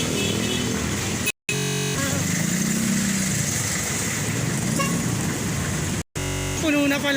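A jeepney's engine idling nearby on a Philippine street, a steady rough rumble with traffic noise that runs continuously, broken by two brief cuts.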